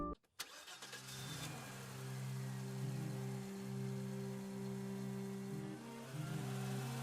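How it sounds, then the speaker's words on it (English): A car engine cranks briefly, catches, and settles into a steady, loud, close roar with a deep hum that swells slightly a few times, with no voices over it. "The moment the engine roared to life"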